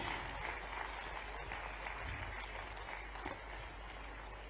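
Sustained applause from a ceremony audience in Bhopal during an MOU exchange with the Chief Minister present, a dense, steady wash of clapping running the whole time without a break.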